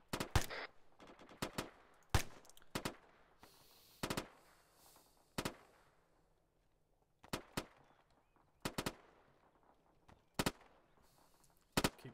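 Gunfire during a video game training session, sharp single shots and short bursts spaced irregularly with quieter gaps between them, fairly close.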